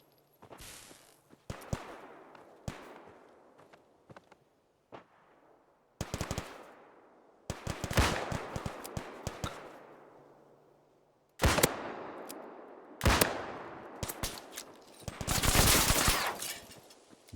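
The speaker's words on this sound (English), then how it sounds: "I feel like they're still shooting at this corner here." Gunfire in Fallout 4 running a Tarkov-style mod: bursts of rapid automatic fire and single shots come in uneven clusters separated by quiet gaps, some sharp and near, others fainter, with no talking.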